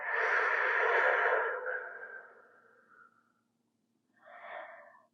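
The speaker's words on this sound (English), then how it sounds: "Cleansing breath out." A deep cleansing exhalation during a heart-opening yoga stretch, a long breathy rush of air that fades out over about three seconds, followed after a pause by a shorter, softer breath.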